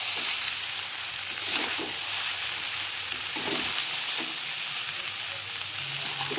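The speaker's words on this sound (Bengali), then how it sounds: "অল্প অল্প করে দেবো আর চাউটা নাড়তে লাগবো।" Chow mein noodles stir-fry with vegetables in a hot pan, giving a steady, close sizzle that holds throughout, with occasional soft scrapes and stirring clatter mixed in.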